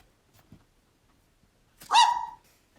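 A husky gives one sharp, fairly close bark after a quiet stretch with faint shuffling, then silence follows.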